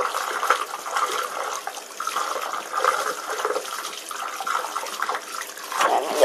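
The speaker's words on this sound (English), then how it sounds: "Rinse that out really well." Water runs steadily from a tap while hairbrushes are rinsed out, a continuous close splashing wash with no talk.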